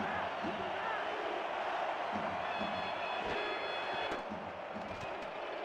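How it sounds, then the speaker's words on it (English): At a football game, a big stadium crowd rises to its feet with a steady, rolling roar of cheering, heard somewhat distant beneath a commentator's voice. "And you hear the crowd come to their feet."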